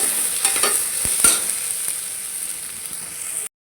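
Ginger garlic paste sizzles in a frying pan under a bright, steady hiss, with a few sharp scraping stirs near the start that thin to a quieter sizzle before the sound cuts off abruptly.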